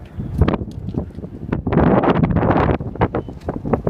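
Strong gusting wind during a Kansas tornado warning buffets the microphone in loud, roaring surges, with brief lulls between heavier blasts and no speech.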